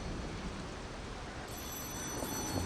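A telephone rings faintly from 1.5 s onward, a thin electronic tone sitting over steady background noise and gameplay ambience, with no talking.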